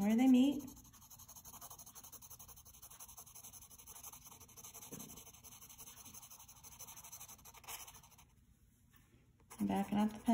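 Pencil sketching on paper, a quiet steady scratching of graphite strokes running for several seconds, with someone talking briefly at the start and end.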